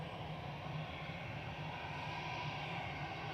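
Airliner departing Manchester Airport from runway 23 left, bound for Malta, a steady distant engine roar with broad rumble holding level throughout, no voices.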